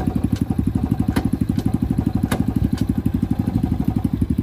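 A side-by-side utility vehicle engine chugs with a rapid, steady pulsing beat at close range as it accelerates, with occasional rattles and clicks over the drone.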